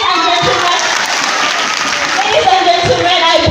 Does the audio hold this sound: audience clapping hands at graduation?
yes